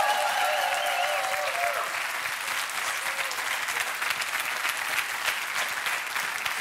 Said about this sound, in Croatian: Zato publiku još jedan put molimo za jedan veliki pljesak.